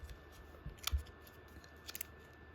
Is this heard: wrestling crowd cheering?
no